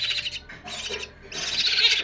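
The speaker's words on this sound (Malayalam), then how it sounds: "ഇതെൻ്റെ വീട്ടിൽ പാർക്കിൻ്റെ മേലെ നിന്ന് കിട്ടിയൊരു കുയിലാണ്." Calls of a young Asian koel rescued from a park, a bird that had been pecked at by crows; repeated high, harsh chirping calls in bursts, close and fairly clear, with no talking.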